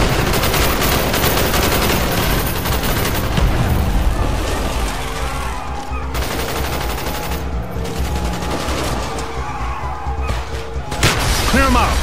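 Dense, continuous gunfire and blasts during a street fight in the Call of Duty Black Ops video game, loud and chaotic throughout, with voices shouting amid the shooting.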